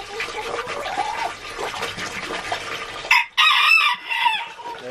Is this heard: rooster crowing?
yes